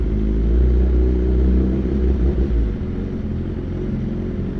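A motorcycle engine idles with the clutch pulled in, a loud, close, steady low rumble that eases slightly toward the end, with no voices.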